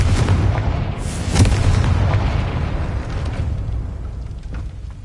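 A Confringo fire spell blasts in Hogwarts Legacy with loud booming explosive bursts, the strongest hitting near the start and again a moment later, then a decaying rumble under game ambience.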